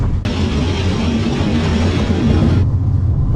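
Long iron ore freight train rolling through the Sahara Desert, a loud, steady rumbling roar of wagons on rails that holds constant throughout, with the hissing upper noise easing off near the end.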